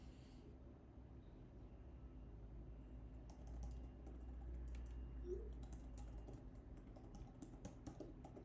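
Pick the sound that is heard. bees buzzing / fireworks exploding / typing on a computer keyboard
typing on a computer keyboard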